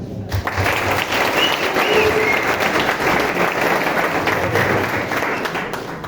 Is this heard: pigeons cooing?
no